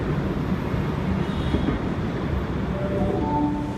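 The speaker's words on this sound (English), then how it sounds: "And A21 departing platform 1 for a Glenfield via Strathfield service." A Sydney train pulls out of a platform at Circular Quay station, with a steady, loud low rumble of wheels and motors filling the platform and a few faint tonal whines above it.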